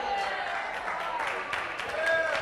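A bistro audience claps and cheers in a lively wash of applause, with voices mixed into the crowd noise.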